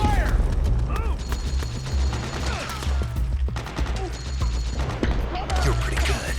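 Rapid bursts of automatic gunfire from a Metal Gear Solid 4 firefight, sustained and dense with a steady low mechanical hum beneath, fairly loud throughout with brief lulls between volleys.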